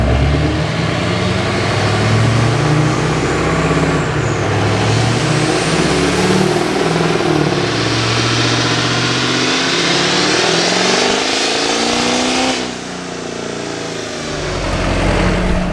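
Minimax engine running hard on a dyno at 60% load, a loud, close, continuous roar that holds steady and rises in pitch, then drops off sharply near the end before picking up again.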